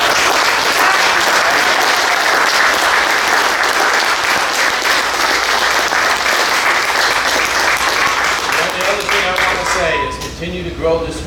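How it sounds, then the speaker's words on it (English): Loud sustained applause from a convention audience at a keynote speech, dense clapping filling the room for about ten seconds before tapering off as a voice starts speaking. "I just want another round of applause for him"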